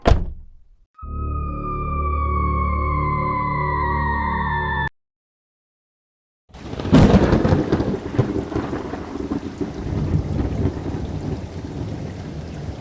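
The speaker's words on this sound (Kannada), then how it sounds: "ಸೂರ್ಯ, ಮಳೆ ಬೇರೆ ಶುರುವಾಯ್ತು, ಬಾರಪ್ಪ ಒಳಕ್ಕೆ." A sustained electronic tone with gliding pitches comes first and cuts to silence. Then a sharp thunderclap breaks in, followed by a steady, loud hiss of falling rain.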